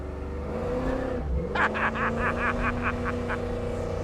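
A 1967 Chevrolet Camaro's engine accelerates as the car pulls away, heard up close with a rising engine note and a rapid series of pulsing bursts partway through, with no speech.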